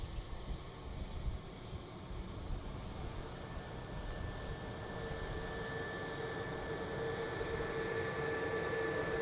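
Scandinavian Airlines A320neo from Oslo at Manchester Airport, heard as a faint, distant jet roar that holds steady and swells slightly toward the end, with a thin tone rising out of it.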